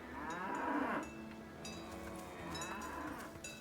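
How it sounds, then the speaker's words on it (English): A cow in the video game Dungeons of Hinterberg moos in a long, low, drawn-out call, followed by softer lowing with a bell-like jingle, clear and close with no talk over it. "But you're the only cow I can feed."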